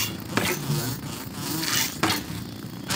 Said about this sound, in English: Yeah, you got the mosquito on you.